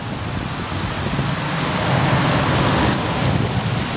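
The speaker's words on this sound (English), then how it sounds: "it started raining hard" Heavy rain pours down steadily over a downtown city street, heard from shelter beneath a bridge as a dense, loud, continuous hiss that swells slightly midway, with no voices.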